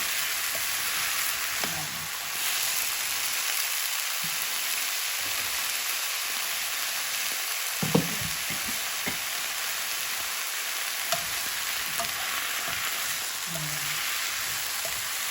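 Eggplant and mushrooms sizzle steadily in a hot pan while being stir-fried, a continuous close crackle with occasional soft clinks and scrapes of a utensil stirring.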